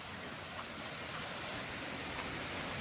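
A small waterfall near Trimbakeshwar gives a faint, continuous broadband rush of falling water, steady throughout with no talk over it.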